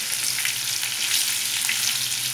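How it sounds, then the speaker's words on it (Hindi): Colocasia leaf pakoras frying and being stirred in a pan of hot oil, giving a steady, close sizzle with faint scraping of the stirring and no voices. "और फिर इसको 15 मिनट लगातार भूनते रहिए।"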